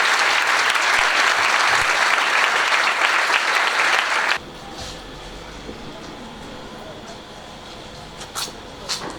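A church congregation breaks into loud, sustained applause acclaiming the Lord, the clapping filling the room for several seconds before cutting off abruptly into quieter room noise with a few faint knocks.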